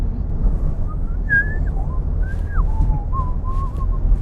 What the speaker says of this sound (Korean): 휘파람 많이 불고